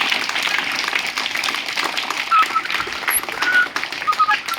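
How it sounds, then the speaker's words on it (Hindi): An audience claps in a lively Hindi quiz gathering, a dense burst of applause that carries steadily throughout with a few whistles cutting through. "जोरदार तालियां लगाइए"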